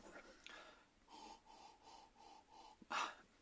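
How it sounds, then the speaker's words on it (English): Series of quick, quiet nasal sniffs over a glass of Ross on Wye Kingston Black whisky finished in an American whisky cask, five short rhythmic inhalations close up, ending with a louder breath. "Let's give it a sniff."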